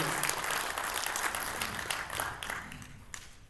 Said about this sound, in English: let's give one more round of applause for Dell